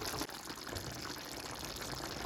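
Jaffna-style yam curry boiling in a pot, a dense continuous bubbling and hissing that stays steady and close throughout.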